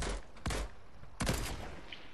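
Sniper rifle fire in the Fortnite video game: two sharp, loud shots about three-quarters of a second apart, each with a short echoing tail, over steady game background noise.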